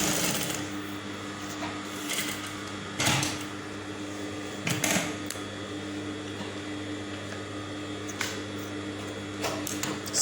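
A sewing machine stitching a curved seam guided by a magnetic sewing guide, a close, steady whirring hum of the motor and needle with occasional louder clacks and bumps from handling the fabric.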